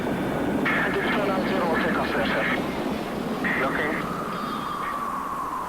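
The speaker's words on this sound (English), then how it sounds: "Over 600 jets now take to the air." Hundreds of military jets take off for an air attack on Iraq, a steady, loud roar of engines with a rising whine. A narrator's voice runs over it the whole time.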